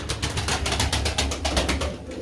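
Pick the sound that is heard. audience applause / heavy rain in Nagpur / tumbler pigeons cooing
tumbler pigeons cooing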